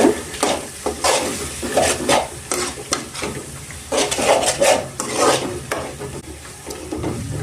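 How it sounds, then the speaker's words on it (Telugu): Turmeric being stirred into a mango rice mixture in a pan, with a steady run of scraping, clinking spoon strokes over a soft sizzle of frying, close and fairly loud, with no talk. "ఇప్పుడు ఒకసారి బాగా కలుపుకుందాం మొత్తం"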